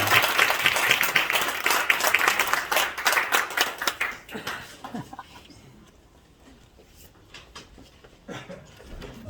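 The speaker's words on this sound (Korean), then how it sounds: "큰 박수를 축하해 주시기 바랍니다" Audience applause at a pastor's inauguration ceremony for a church council president: dense clapping for about four seconds, then thinning to scattered claps with a few stray sounds.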